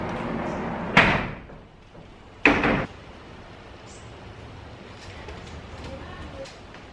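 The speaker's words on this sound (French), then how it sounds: "Donc je vais ouvrir la porte" A door is opened twice, each time with a loud, close bang followed by a brief rattle, and quiet room noise in between.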